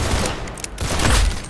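Rapid bursts of video game gunfire crackle loud and close in an Arsenal kill montage, dense and continuous with brief gaps.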